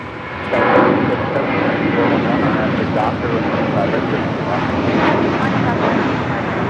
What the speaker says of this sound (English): Next departure, JetBlue Airways flight 624 heading to JFK in an A321.